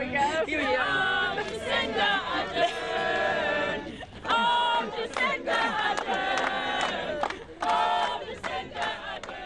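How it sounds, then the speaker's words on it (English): In Dunedin, a crowd of about 400 students and locals loudly chants Labour leader Jacinda Ardern's name. The voices rise in rhythmic bursts, with brief lulls between the chants. "she was followed by a crowd of about 400 students and locals chanting her name"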